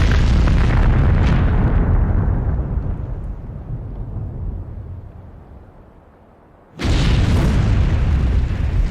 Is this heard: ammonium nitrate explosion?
yes